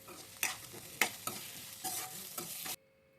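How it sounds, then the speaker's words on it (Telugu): Green chilli and carrot pieces with salt frying in a pan while being stirred, giving a steady sizzle broken by several sharp scraping clinks of the spoon, close by with no talking, then stopping abruptly. "ఇప్పుడు పచ్చిమిరపకాయ ముక్కలు, క్యారెట్ ముక్కలు కూడా వేసేసుకొని కొద్దిగా సాల్ట్ వేసుకొని కొంచెం వేగనివ్వండి."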